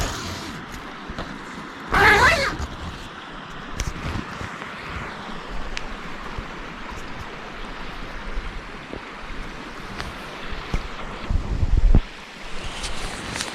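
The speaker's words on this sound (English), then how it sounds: "all I can hear is the river" A river rushing steadily beside a tent on a foggy early morning during a solo hiking trip, a broad continuous wash of water mixed with wind, with a couple of louder bumps and rustles close by.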